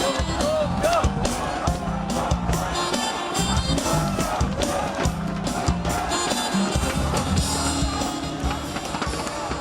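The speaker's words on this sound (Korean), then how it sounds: "미리 여러분 큰 박수 한번 보냅시다" Big crowd at an outdoor Korean opposition party rally demanding the president's resignation roars with sustained applause, cheering and whoops, dense and loud throughout.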